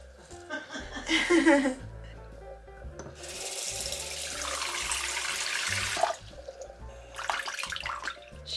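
A houseplant being watered indoors, with water pouring and splashing in bursts under a few spoken remarks and brief laughter, the flow steady for a few seconds before tapering off.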